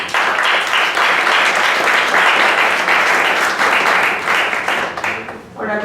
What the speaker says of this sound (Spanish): Por favor, demos un aplauso de bienvenida a la maestra Claudia Lisbeth Llanos Argüello.